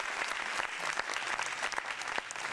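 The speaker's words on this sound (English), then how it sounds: "Applause are happening." A crowd breaks into applause, with dense, sustained clapping at a steady level from start to finish and faint voices mixed underneath.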